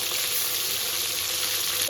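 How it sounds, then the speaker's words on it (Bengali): Rohu fish pieces sizzle steadily in hot oil in a frying pan, a dense, continuous crackling hiss close up with no talking. "মাছের এক সাইড ভাজা হয়ে গেছে, এবার উল্টে দিচ্ছি।"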